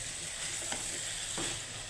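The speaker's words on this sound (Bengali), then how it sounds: "প্রথমে ডাঁটা আর আলুটা ভালো করে কষিয়ে নিচ্ছি।" Potatoes, stems and greens stir-fry in a pan with a loud, steady sizzle, and two brief scraping stirs cut through the hiss.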